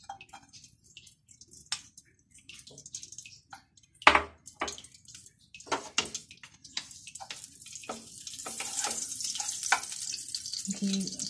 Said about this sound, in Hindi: तो इसके लिए सबसे पहले हम इसमें थोड़ा सा पैन में घी डालेंगे